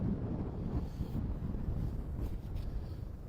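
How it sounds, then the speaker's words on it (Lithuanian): Strong wind blowing across open ice outdoors at an ice fishing competition in Sweden, a steady loud rushing roar buffeting the microphone throughout with no talk. "Labai vėjas, net stabilizatorių nusuka."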